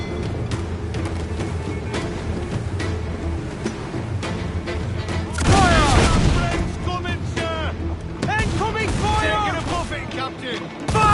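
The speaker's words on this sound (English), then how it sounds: "All hands to cannons!" Ship cannons firing in Assassin's Creed Black Flag, with a deep booming broadside landing midway amid a constant din of battle and crew shouts.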